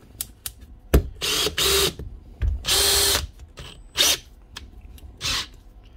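A Makita cordless hammer drill runs in several short bursts after repair, revving up and stopping repeatedly, with clicks and pauses between the loud whirring spurts.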